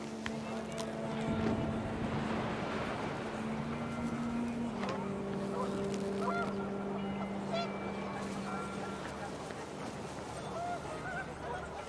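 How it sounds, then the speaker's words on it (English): Panicked geese honking in the game What Remains of Edith Finch, a flurry of goose calls over wind and ambient noise, partly masked by a steady drone. "The wind picked up, and panicked geese appeared and quickly went."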